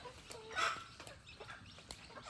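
Chickens cluck and call softly amid faint outdoor background noise, with one louder squawk standing out briefly.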